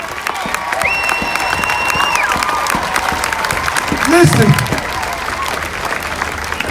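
A crowd at a George Floyd demonstration in Winston-Salem claps hands steadily, with dense sustained clapping, some cheering, and a voice speaking over it.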